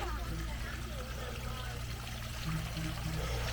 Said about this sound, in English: Oh, a waterfall.